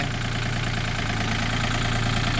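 A Yanmar 35 hp tractor engine idles close by, a steady low diesel rumble with a fine rapid knocking pulse, unbroken for the whole stretch and without any voices.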